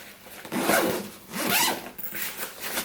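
A large heavy-duty zipper on a case pocket is pulled open and closed in a few quick rasping strokes, close and clear with no talking.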